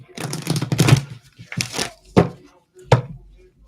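A deck of playing cards is shuffled by hand in a few short riffling bursts separated by pauses, ending with sharp taps as the deck is squared, close up with brief talking mixed in.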